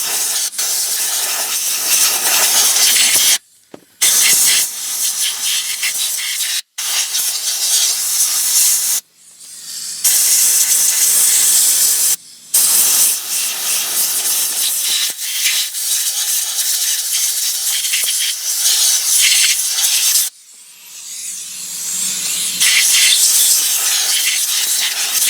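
Compressed air blasting dirt out from under a Porsche Cayenne during a fuel pump replacement: long, loud, close hissing bursts broken by several brief pauses.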